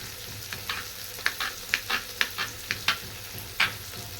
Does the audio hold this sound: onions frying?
yes